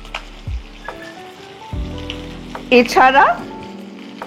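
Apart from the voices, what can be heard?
black and white cumin paste sizzling, frying in oil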